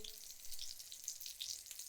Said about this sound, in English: It is sizzling away.